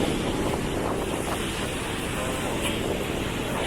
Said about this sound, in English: I love the sound of waves crashing.